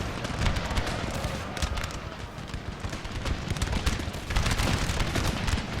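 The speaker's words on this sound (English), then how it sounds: "All my units are just shooting volleys on it." Massed musket volleys in Napoleon Total War, a steady crackle of many overlapping shots from infantry lines with horse hoofbeats mixed in, sustained and fairly distant with swelling bursts.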